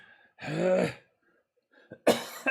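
A single loud, harsh cough near the mic, then a pause and a quick burst of two or three more rough coughs.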